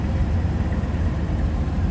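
A 1960 Cadillac Eldorado Seville engine idles smoothly at the exhaust end of the car, producing a steady, moderately loud low rumble with no sharp pops.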